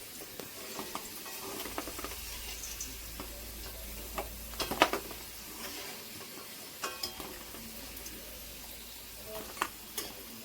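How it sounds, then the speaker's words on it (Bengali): Potatoes frying in oil with salt: a constant soft sizzle scattered with small ticks and scrapes of a utensil in the pan, moderately close. "লবণ দিয়ে ভেজে নেব"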